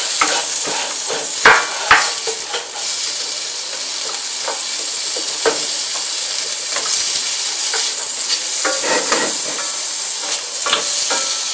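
Onions brown in a hot skillet with a steady close sizzle and hiss, punctuated by sharp clicks and scrapes of stirring at irregular intervals, no voices.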